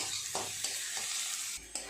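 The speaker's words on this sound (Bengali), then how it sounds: "রসুন আর আদা রসুন আর পেঁয়াজ খুব ভালো করে একটু সময় নিয়ে এইভাবে নেড়ে নেড়ে ভাজা করে নেব" Onion, garlic and ginger stir-fried in a pan for a fish chop filling, giving a steady close sizzle with a few soft scraping stirs.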